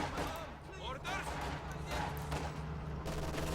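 Small arms gunfire crackles in the Company of Heroes 2 video game, a scattered run of shots and bursts kept low in the mix under steady talk.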